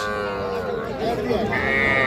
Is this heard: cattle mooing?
yes